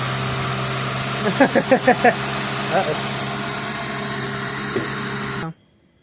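A Ford 4.6L V8 with an idle air control valve fault idles steadily and raises its idle speed on its own, with a brief warbling, yodel-like rise and fall before the sound abruptly cuts off.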